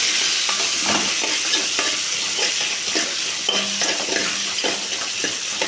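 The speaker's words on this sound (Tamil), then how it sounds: "அடுத்ததாக அரிஞ்சு வச்சு வெங்காயத்தை போட்டுக்கலாம் வெங்காயத்தை நல்லா வணக்கிக்கலாம்" Sliced onions sauté in a pan with a steady, loud frying sizzle, while a spatula stirs them with repeated scraping strokes throughout. Nobody speaks.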